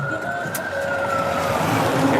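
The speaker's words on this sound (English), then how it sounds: "here come the ambulance with an emergency" An ambulance siren on a New York City street rises and wails steadily in the distance behind loud, constant traffic rumble, heard from a delivery driver's vehicle.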